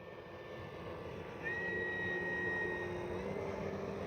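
An E-flite Carbon Z T-28 RC model airplane flies at under half throttle, its faint, distant motor whine holding steady and then swelling slightly partway through, with no talking.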